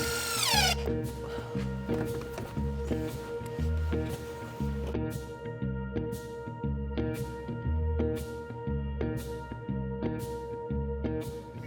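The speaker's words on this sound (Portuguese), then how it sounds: "aqui eu tô fazendo os últimos parafusos, que é para colar todos os frames" A power drill driving screws into wooden floor frames during house construction, the motor whirring in repeated short bursts with a steady rhythm, close and fairly quiet, with no talking.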